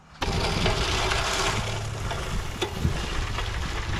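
A Workpro 16-inch manual reel push mower cuts grass outdoors, with a steady, soft, hissing whir that starts abruptly and rolls on with light clattering bumps, close by.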